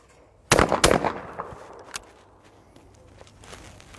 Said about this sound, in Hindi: I will try and shoot extremely fast, faster than what I was shooting